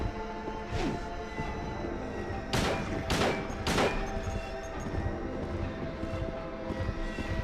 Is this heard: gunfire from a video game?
yes